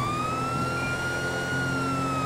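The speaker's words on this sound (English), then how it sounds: "Any responding officers, dial down on the sirens when you approach." A police car siren in GTA 5 wails continuously with a steady, sustained rising tone over a constant engine and road rumble, loud and close.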